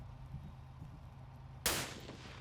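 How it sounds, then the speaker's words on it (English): A single sniper rifle shot in a WW2 tank combat game, aimed at a tank commander: one sharp, fairly loud crack with a short decaying tail, following a stretch of low engine rumble and quiet ambience. "Should we try the sniper and see if we can kill the tank commander?"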